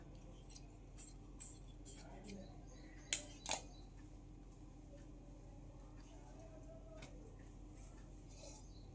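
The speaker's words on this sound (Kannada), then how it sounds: "ನೋಡಿ ಹೀಗೆ ಸ್ಲೀವ್ನ ಕಟ್ ಮಾಡ್ಕೊಳ್ಳೋಣ" Scissors snip through blouse fabric while a sleeve is being cut, giving a series of sharp, faint clicks and crisp snips with two louder cuts in the middle, over quiet room tone and a soft voice.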